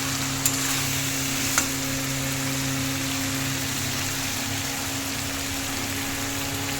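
Oil and ghee sizzle steadily in a pan of pointed gourd and potato curry as water goes in, a dense even hiss with a couple of sharp clinks near the start, no talking.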